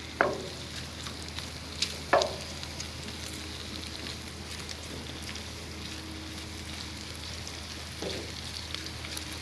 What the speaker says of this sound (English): So we still got a few minutes to let this stir fry.